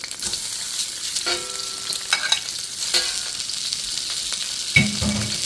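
A second batch of beef fries in avocado oil in a wok, a steady close sizzle with intermittent scraping stir strokes and a louder burst of crackle near the end.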